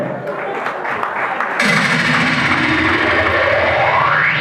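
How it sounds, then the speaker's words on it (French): An audience applauds an honoured guest at a local awards ceremony in Kingabwa. Dense, continuous clapping swells abruptly partway through and holds loud and steady to the end, with crowd noise and some voices beneath. "Applaudissez pour lui s'il vous plaît."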